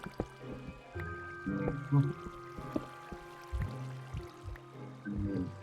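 Water being scooped up with a bucket in Minecraft survival gameplay, heard as a few brief squishy, liquid filling sounds mixed with other small in-game noises, fairly quiet and with no talk over them.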